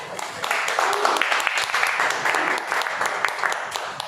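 Audience applause at a Toastmasters club meeting after speakers qualify for an award, a steady wash of clapping lasting several seconds with some voices mixed in.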